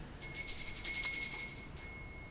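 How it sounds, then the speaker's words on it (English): A high bell rings once on stage in a production of Macbeth, a clear sustained chime lasting about two seconds and fading out, heard alone without speech. "The bell invites me. Hear it not, Duncan, for it is a knell"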